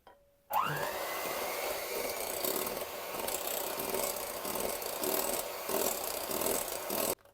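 An electric hand mixer whipping cottage cheese with egg yolks, switching on with a rising whine into a steady loud whirring drone with slight wobbles, then cutting off after about seven seconds, close, no talk.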